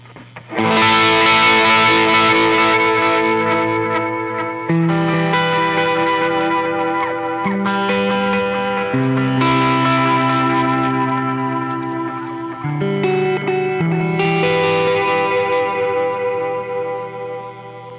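Sustained, heavily effected guitar-like tones through an Echoplex tape echo unit, with echo repeats and a steady background hum and hiss, one brief dropout midway as the tape moves away from the playback head.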